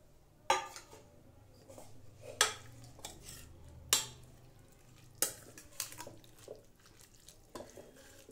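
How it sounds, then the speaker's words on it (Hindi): Crumbled rotis being stirred into cooked vegetables in a pan, a handful of distinct spoon scrapes and clinks against the metal over a quiet background, with no speech. "अब हम इन पकी हुई सब्जियों में हमारी चूरी हुई रोटियों को मिक्स कर देंगे"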